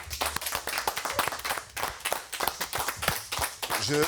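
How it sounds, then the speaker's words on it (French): An audience applauds Philippe on a French morning show, with loose irregular hand claps close by and an uneven rhythm of sharp individual claps throughout. "J'aimerais qu'on applaudisse Philippe."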